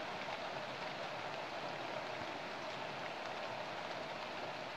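Steady rain falls in the rural sertão of Princesa Isabel, Paraíba, Brazil, with an even, dense patter and hiss, soft and constant with no voices.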